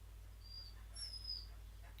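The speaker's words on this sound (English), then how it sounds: "That's his puppy bark." A puppy gives a few thin, high-pitched yips, almost whimpers, quiet and slightly distant over a low steady hum, with two short calls close together in the middle.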